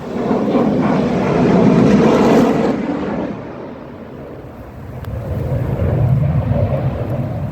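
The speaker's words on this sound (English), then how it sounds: "Sound of freedom, NAS Oceana F-18 jet." An F-18 fighter jet from NAS Oceana passes overhead near a cemetery, a loud broad roar that swells early, eases midway and rises again, with wind buffeting the microphone.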